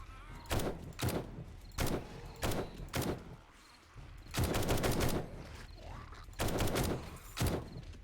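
Heavy gunfire during horde night in the video game 7 Days to Die: repeated loud bursts of rapid shots in clusters, separated by brief pauses, close and dominant.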